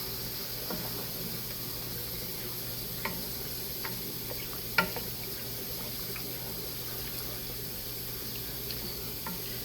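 Water simmers faintly in a hot pan while a utensil scrapes up flour for gravy with hamburger steak, giving a steady low hiss broken by scattered light scrapes and clicks.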